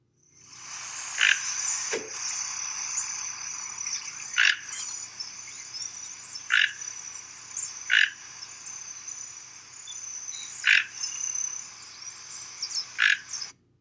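A bird gives repeated harsh, grunting croaks, spaced a second or two apart, loud and close over a quiet background, sounding somewhere between a frog and a pig.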